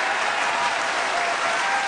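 A crowd claps steadily and densely for a stage dance performance by the Mosuo dance troupe with an idol singer, forming one continuous, evenly loud wash of applause throughout.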